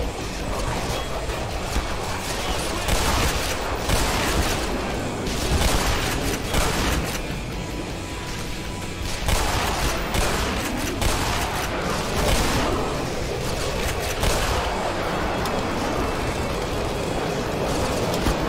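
Gunfire in the shooter game Black Mesa rattles as dense, continuous bursts of shots and impacts, loud and busy throughout with no quiet gaps.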